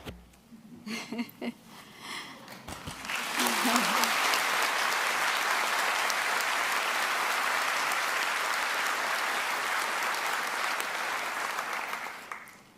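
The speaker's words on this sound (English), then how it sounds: "Thanks for the applause for her." Graduation ceremony audience at Lancaster University applauding: a few scattered claps and murmurs, then a full wave of steady clapping that rises and holds for several seconds before tapering slightly.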